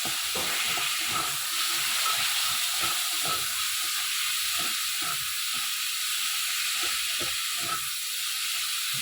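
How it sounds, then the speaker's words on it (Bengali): Chicken frying with black pepper in a pan gives a steady, loud hiss and sizzle that runs unbroken the whole time, with faint crackles underneath and no voices. "আর হচ্ছে গোলমরিচ দিয়ে চিকেনটাকে ভাজবো।"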